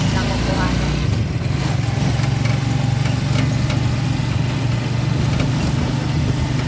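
A tricycle engine idles steadily at close range in a Cainta, Rizal street, a low continuous rumble running throughout with voices talking over it.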